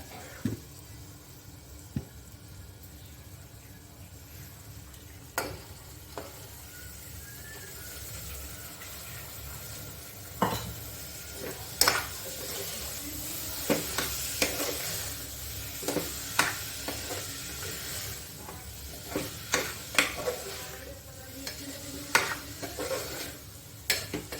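Washed toor dal (split pigeon peas) sizzles softly in a pan of tempering while a spoon scrapes and stirs, making scattered clicks and taps against the metal. The cooking sounds are quiet and close.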